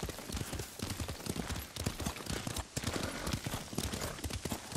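A horse clip-clops along at a steady gait while being ridden in the samurai video game Ghost of Tsushima, its hoofbeats close and rhythmic over continuous ambient noise, with no talk.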